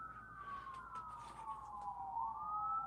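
A police siren wails steadily outdoors, its tone sliding slowly downward then climbing again, moderately loud and continuous over faint background traffic noise with no talk.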